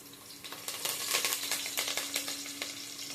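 Onion and curry leaves sizzle in hot oil, a soft crackling hiss that swells after a moment and carries on steadily with small pops, heard up close with no talking.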